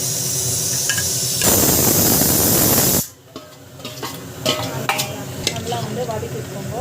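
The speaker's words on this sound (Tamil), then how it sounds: "நல்லா வதக்கிக்கணும்" Onion sautés in a pan with salt, first as a loud, dense sizzle that abruptly drops to a quieter crackle, with spoon scrapes and stirring clatter close by, and no talking.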